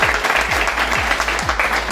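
Applause from an audience at a network-marketing speech event, a dense, steady wash of clapping throughout, loud and close, with a low rhythmic hum pulsing underneath.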